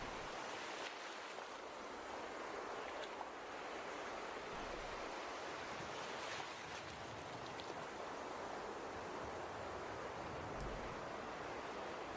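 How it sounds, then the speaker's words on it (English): Waves crash on a beach just after a storm's rain fades, a steady broadband surf wash filling the whole stretch with gentle swells, no voices present. "the wave crashing on the beach"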